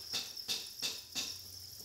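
Farmed crickets chirping in breeding pens, four evenly spaced bursts of shrill, close chirps over a steady insect hiss, with no voices.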